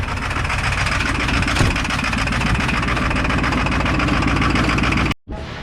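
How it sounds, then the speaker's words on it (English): A V8 engine idling roughly while warming up, misfiring as if running on only half its cylinders; a steady, loud, uneven rumbling drone that continues close up before cutting off abruptly near the end. "It sounds like I'm firing on 4 out of 8 cylinders."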